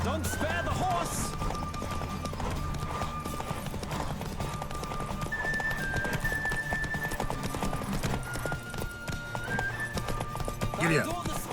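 Geralt's horse Roach gallops in The Witcher 3: Wild Hunt, a steady, quick clip-clop of hooves with an occasional whinny, set against game music and a voice talking.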